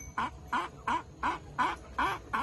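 A hungry speckled-necked chicken begs for food with seven evenly spaced, nasal, rising calls repeating in a steady rhythm, fairly close and moderately loud.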